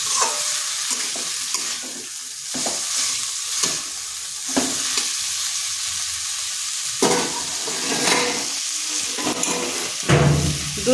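Potatoes fry in a pan with spices while being stirred, a continuous close sizzle broken by repeated scraping strokes of a spatula across the pan bottom, with no voices.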